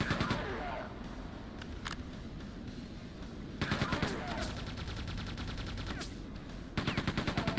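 Rapid automatic gunfire in Quake II, loud rattling bursts of repeated shots in several volleys separated by quieter stretches of game noise, with a voice talking in between.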